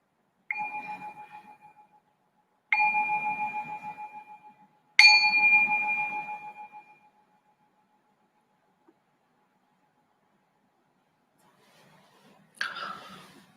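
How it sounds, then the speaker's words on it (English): A meditation bell is struck three times at steady intervals, each clear, ringing tone sustaining and fading slowly in a quiet room, followed by a long silence and a faint later sound. "I'll ring the bell while you settle your body into your"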